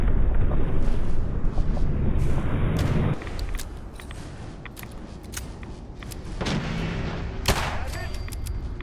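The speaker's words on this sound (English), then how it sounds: "I'm going to fire a couple shots at him there just so I can get him to turn" Gunshots fired at a Deathclaw in Fallout 4, heavy booming blasts with rumbling tails in the opening seconds, then a quieter pause before several sharp, isolated reports ring out.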